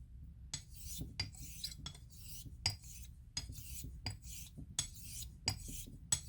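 A Dovo Bergischer Löwe 3680 straight razor is honed on a stone, giving soft, rhythmic scraping strokes that repeat back and forth about every half second, close and quiet with no talking.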